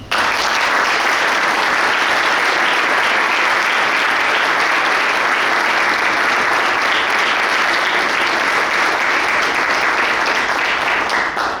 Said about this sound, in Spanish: Quiero pedirles para ambos un fuerte aplauso